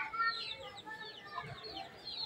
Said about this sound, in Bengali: এই যে বাড়ির মুরগি